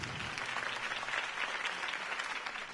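Crowd applause in the Batman Telltale video game after Harvey Dent's campaign speech, a steady dense clapping from a large audience heard alone at moderate, somewhat distant volume.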